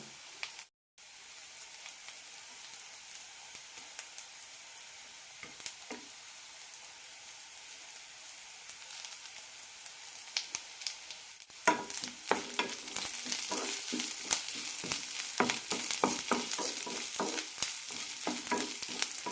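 Finely chopped garlic frying in a pan for an okra curry, quiet at first and then building into a steady, louder sizzle with scraping stirs from the middle on, close by with no talking.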